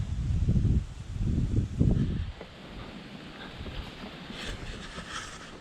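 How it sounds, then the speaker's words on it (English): Cold outdoor wind buffets nearby trees, starting with heavy low gusts for about two seconds, then easing into a steadier, softer rush of moving branches and leaves. "Cold out here today, wind's blowing."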